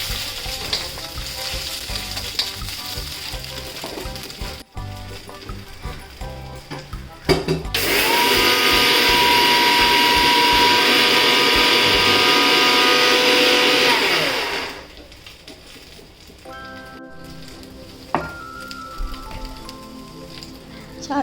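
A mixer grinder whirs loudly as it grinds niger seeds with coconut, a steady harsh roar lasting about seven seconds that starts and stops abruptly, with quieter kitchen handling before and after.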